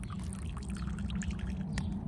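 Water poured out of a kids' water shooter toy, a continuous close splashing gush lasting the whole moment with no talk over it.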